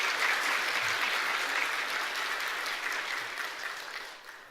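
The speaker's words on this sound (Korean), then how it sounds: "박수로 우리 환영하겠습니다." A church congregation claps to welcome visiting missionaries during a Sunday service, a steady wash of applause throughout that fades slightly toward the end, with no voices over it.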